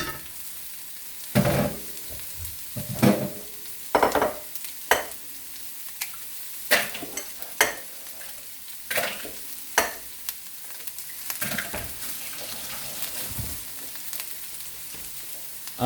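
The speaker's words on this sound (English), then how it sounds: "Keep on stir frying it." Onions stir-frying in a wok, a steady sizzle broken by repeated scraping stir strokes at irregular intervals, close and fairly loud with no talking.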